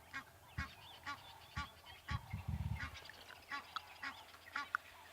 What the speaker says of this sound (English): And there we've got the Egyptian gooses.